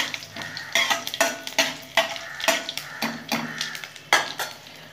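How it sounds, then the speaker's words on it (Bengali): Five-spice panch phoron seasoning sizzling in oil while a utensil stirs and knocks against the pan in quick irregular strokes, close and fairly quiet. "একটু ফোড়নটা ভাজা ভাজা করে নেব।"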